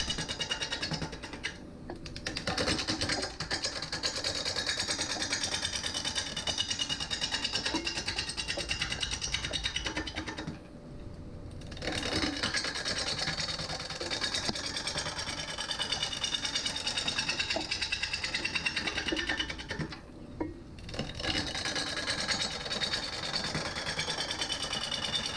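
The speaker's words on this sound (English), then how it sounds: "there is nothing like turning green wood with a nice sharp gouge" A wood lathe spins a green elm bowl blank while a sharp gouge roughs it out, a steady continuous cutting whir and hiss broken by two short pauses, with no voice over it.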